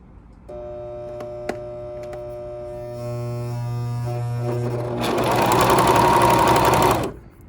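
An overlocker runs steadily with a mechanical hum that builds in speed and loudness near the end before cutting off abruptly.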